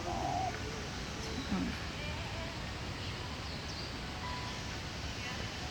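Pigeons coo softly inside a bird tower, with a low cooing call rising briefly midway through faint, steady background ambience; no one speaks.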